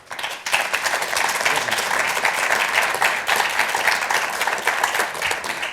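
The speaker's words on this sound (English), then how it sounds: "I wasn't intending for that to be an applause line." A hall audience breaks into applause partway through a speech on 9/11 and the War on Terror, dense, sustained clapping from many people that swells in after a brief quiet start and stays loud and continuous.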